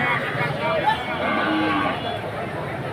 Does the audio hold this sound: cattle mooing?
yes